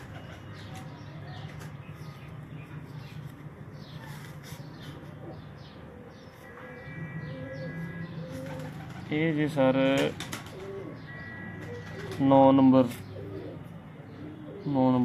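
Breeder pigeons coo softly and repeatedly in the background, with a low droning hum underneath and someone speaking briefly over them.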